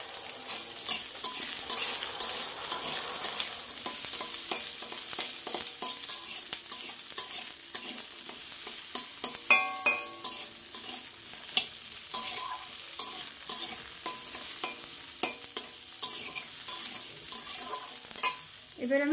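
Garlic, chili and onion frying in a kadai, a constant close sizzle broken by repeated scraping and clinking of a spatula stirring against the metal pan.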